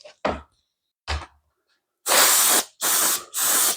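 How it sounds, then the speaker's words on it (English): A double stage airbrush sprays Tru-Color blue paint for an HO scale model in three loud, close bursts of rushing air hiss, each lasting about half a second, after a few brief knocks and clicks. "I think we'll get started airbrushing here"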